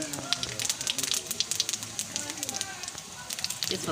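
Cumin seeds and bay leaf dropped into hot mustard oil, a busy crackling sizzle with sharp spattering pops throughout, and a voice talking over it.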